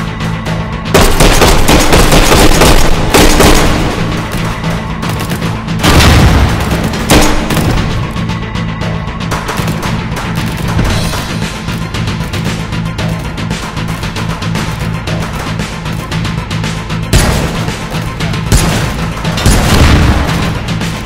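Pistol gunfire in the VR shooter H3VR, take-and-hold mode with a WW2 challenge: loud, sharp repeated shots and booms scattered across a busy, continuous battle din.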